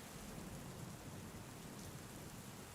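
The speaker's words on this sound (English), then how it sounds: "The rhythm of the rain is the only measure now." Steady, dense rain falls without pause around a Japanese tea house, a soft even hiss with no talk or distinct drops standing out.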